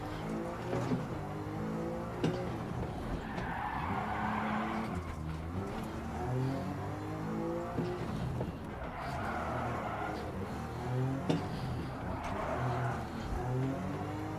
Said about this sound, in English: Turn in whilst braking. Pull the handbrake in the blue zone.